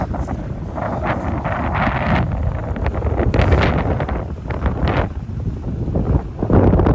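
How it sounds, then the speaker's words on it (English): Strong wind in the Scottish Highlands buffeting the microphone in loud, gusting roars that rise and fall, with a rough rumble throughout. "Windy as hell."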